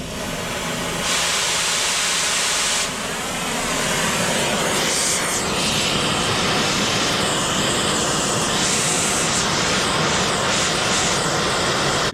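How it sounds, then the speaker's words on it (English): Cutting torch burning old parts off a Warn winch, a loud, close, continuous roaring hiss that shifts in intensity as the flame is worked, with no talking. "we're gonna get a torch and torch these out of here"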